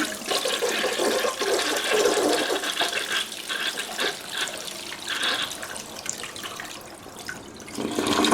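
A toilet flushes in a bathroom, a loud gushing swirl of water that keeps rushing and then eases into a gurgling refill toward the end, with no one talking.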